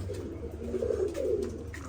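Pigeons coo in soft, low, repeated calls, close and steady over a faint background hum, with no talking.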